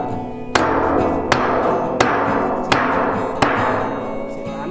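Hammer blows strike while parts of a water tank are fitted, five evenly spaced sharp metallic impacts, each ringing out and decaying into a steady background.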